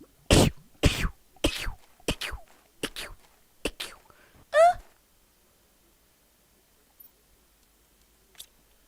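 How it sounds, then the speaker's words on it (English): A person sneezes in an odd, froggy way: a quick run of sharp, close bursts with one squeaky, rising final sneeze, then near silence. "That was me sneezing."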